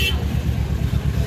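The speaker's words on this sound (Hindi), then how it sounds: "अब इतनी ट्रैफिक है ना यहाँ पर" Busy street traffic at Sarai Lajpat Rai market, a dense low engine rumble with a brief horn toot at the start, loud and close under the general street noise.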